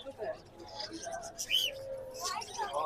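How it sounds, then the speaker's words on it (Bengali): Budgerigars at the Mirpur 11 bird market in Dhaka give bright, scattered chirps and short whistles at close range over a busy market background. "মাশাআল্লাহ এখানে সুন্দর কিছু বাজিকার পাখি হ্যাঁ"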